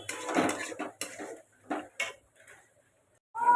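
A spoon stirs chicken in a metal pot during cooking, with irregular clinks and scrapes against the pot, some louder taps and brief quiet gaps between them.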